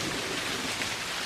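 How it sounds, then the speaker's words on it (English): Steady rain falls in a dense, even hiss of drops with no break or variation, close and moderately loud for the whole short stretch, with no voices. "And this is rain."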